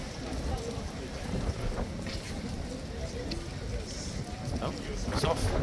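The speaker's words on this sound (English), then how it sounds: "It is crazy windy." Heavy wind buffets the microphone in a steady low roar with gusty surges outside the King's Guard in London, loud and continuous throughout.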